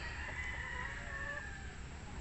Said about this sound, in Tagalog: Another busy day ang mga manok sa ating farm.